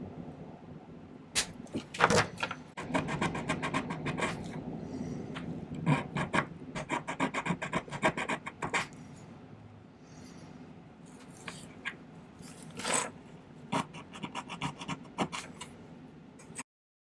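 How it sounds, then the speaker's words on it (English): A metal file rasps against a silver ring in a series of quiet, close, repeated strokes with brief pauses between some of them. "just gradually file it till they fit together nicely"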